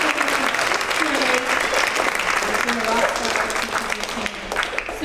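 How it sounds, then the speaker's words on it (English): Loud, steady applause fills a school's sixth-to-eighth-grade choir concert, a dense wash of clapping from a large audience that holds at full strength throughout, with some voices mixed in. "So let's give her a round of applause."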